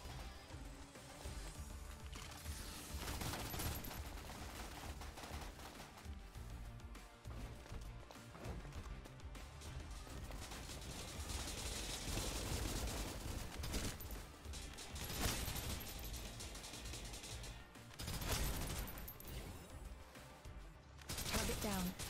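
Rapid gunfire and mechanical weapon clatter from the mobile shooter game Snow Break, dense and continuous with bursts over game music and effects.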